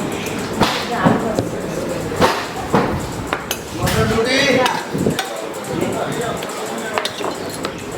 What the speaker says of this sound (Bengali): একটা করে বাটি প্লেট নামাচ্ছি আমি।